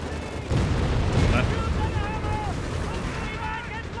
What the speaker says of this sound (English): Having unleashed who knows how many hundreds of rounds of 50 cal bullets into the Germans